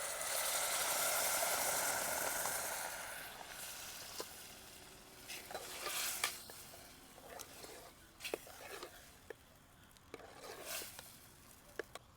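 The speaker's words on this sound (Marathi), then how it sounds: "आपण आता याच्यामध्ये वरण टाकून घेऊ शिजलेलं" Cooked dal poured into a pan of fried spice tempering for dal bati: a loud hissing sizzle at first that fades, followed by scattered clinks and scraping as it settles.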